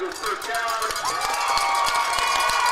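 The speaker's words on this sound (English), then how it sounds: "you can hear the Eagles fans in front of us" Eagles fans cheer and shout at a high school football game, a steady roar of crowd voices with whoops rising in the middle, heard from a distance with a commentator's voice over it.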